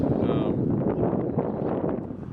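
Steady, rumbling wind buffets the microphone throughout, a dense low roar with no letup.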